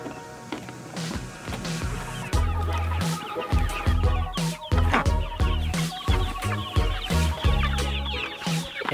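Meat chickens cluck steadily at close range, with many overlapping, irregular clucks and squawks and no voices.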